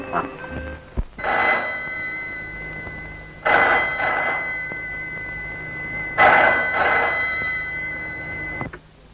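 A telephone bell rings in three separate bursts with pauses between them, loud and close, in a Malayalam film scene.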